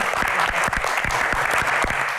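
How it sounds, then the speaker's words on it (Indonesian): An audience gives warm, lively applause for Ibu Lestari Moerdijat at an evening talk event, a dense continuous clapping from a close crowd that stays steady throughout. "kita akan berikan tepuk tangan yang paling meriah untuk Ibu Lestari Murdiat"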